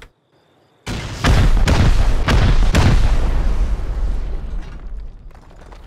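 Explosive charges blowing up a base in the survival game Rust: after a near-silent start, a loud booming blast hits, then three or four more heavy detonations follow quickly, leaving a long rumbling tail that slowly fades.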